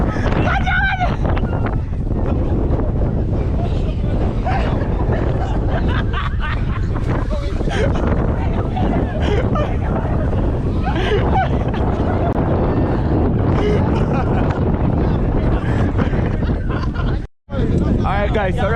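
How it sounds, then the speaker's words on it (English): Steady wind buffets the microphone on a beach throughout, a low roaring rush with voices chattering over it, briefly cutting out near the end. "sorry about the wind"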